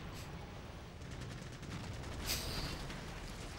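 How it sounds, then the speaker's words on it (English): Fighting and gunfire in the video game Dark Chronicle: a faint, dense crackle of rapid shots and clashing noise that runs continuously, with a slightly sharper burst midway. "Sounds like fighting and gunfire."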